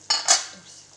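A lid lifted off a pot of simmering buttermilk kuzhambu: two quick metallic clanks close by, then a short fading ring and quiet.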